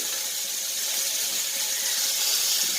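Tap water runs steadily while dried fish is washed in a sink, a constant close hiss and splash with no pauses or voices.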